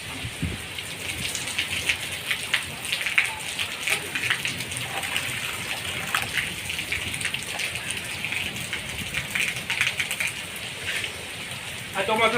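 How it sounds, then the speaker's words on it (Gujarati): Heavy first monsoon rain pours steadily in Amreli, a dense, continuous hiss of drops drumming on surfaces close by, with no letup across the whole stretch. "આ ચોમાસાનો પહેલો વરસાદ."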